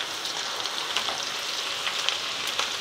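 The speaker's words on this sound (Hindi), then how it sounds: "गोल्डन ब्राउन हो जाने तक हम मीडियम फ्लेम में फ्राई करेंगे।" Okra frying in oil over a medium flame gives a steady, moderately quiet sizzle with scattered small pops and crackles throughout.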